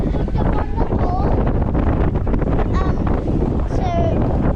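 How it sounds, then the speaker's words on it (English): Strong wind roars steadily and loudly across the microphone on a fishing boat off Marathon, a constant rushing blast with a few faint higher tones riding on top. "So, it's really windy right now, but the current's okay."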